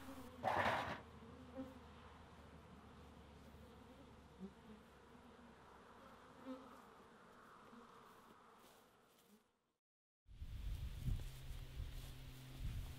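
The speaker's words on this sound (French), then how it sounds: "je les souffle à l'aide d'un souffleur afin que les dernières abeilles récalcitrantes retournent à leur ruche" Honey bees buzz in a dense, steady swarm as a beekeeper blows stragglers off with a blower at a honey house. The buzzing stops abruptly near the end, and a different, louder low rumble follows.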